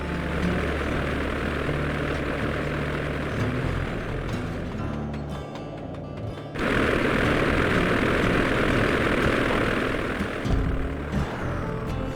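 An ice plane's propeller engine drones loud and continuous in Sly Cooper 2, a steady buzzing roar with a brief dip midway before surging back.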